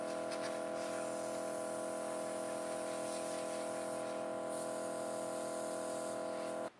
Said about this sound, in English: You're going to spray everything out until it's clear, so that you know that there's no more makeup in there.